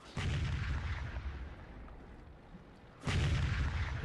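Two heavy T110E4 tank cannon blasts in a video game boom out about three seconds apart, each a loud broad burst followed by a rumbling decay.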